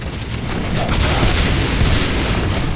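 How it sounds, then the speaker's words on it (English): A level 1 shotgun fires in a video game match, heavy booming blasts blurring into dense, continuous gunfire and rumble at close range, loud throughout with no talking. "you can see what even a level 1 shotgun does"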